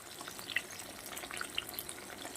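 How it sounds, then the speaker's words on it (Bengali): Bitter gourd frying in a pan, heard as a faint, soft sizzle with scattered tiny pops and crackles, fairly distant and low in level. "এটাকে আমি ভাজতে থাকি"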